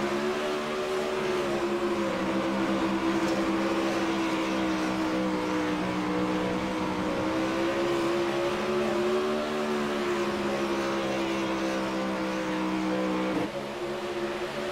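An onboard race car engine drones loudly and steadily during a race, a close sustained buzzing tone with slight pitch shifts as it moves through gears, with no voices.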